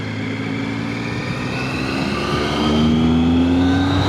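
A vehicle engine runs steadily after a repair on a drive toward the M6, a smooth motor hum rising slightly in pitch as it accelerates, close and continuous with no talk.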